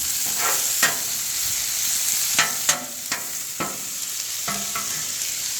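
Ribeye steak bites frying in a pan, a continuous bright sizzle broken by several sharp scraping stirs of a utensil, close and loud with no talking.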